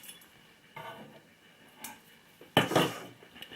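Chopped chilies tipped into a bowl make a short, sharp clatter near the end of an otherwise quiet stretch, with a fainter knock just before it.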